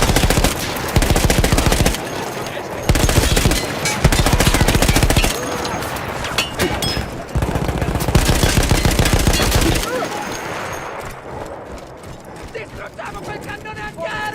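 Rapid bursts of heavy automatic gunfire from a manned anti-aircraft gun in a Battlefield game, loud and close in repeated volleys, fading to scattered distant battle noise near the end.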